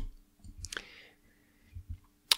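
Computer mouse clicks sound while working in Inkscape graphics software: a few sharp, close clicks spaced out over quiet background, including a louder click at the end.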